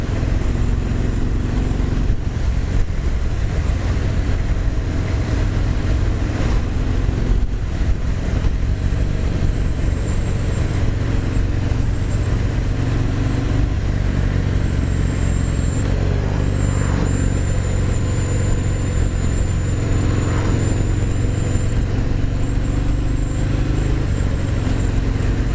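Harley-Davidson Fat Bob 114 engine on a demo ride, a continuous low rumbling drone mixed with wind rush, steady and loud throughout with no voices.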